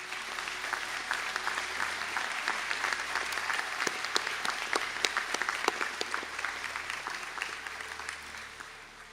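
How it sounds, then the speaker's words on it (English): A large audience at a college conferring ceremony in Sligo claps for standing BSc Construction Management graduates; the round of applause is sustained and even, fairly distant in a big hall, with no speech on top. "Can I now ask the candidates from the BSc in Construction Management to stand for a round of applause"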